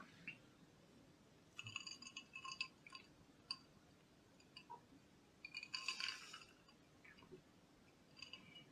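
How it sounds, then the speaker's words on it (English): Ice cubes clink and rattle faintly in a glass of cider in short bursts, with quiet gaps between the clinks. "if you can hear the ice cubes moving around in the background"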